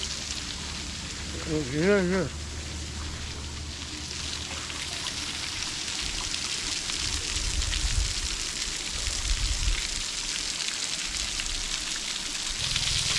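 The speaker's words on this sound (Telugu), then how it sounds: "ఈ జలపాతం ఫ్రెండ్స్ పైన మొదలు పడుతున్నాయి వాటర్" A waterfall near Srisailam pours steadily, a broad continuous rushing wash heard throughout, with a brief voice near the start.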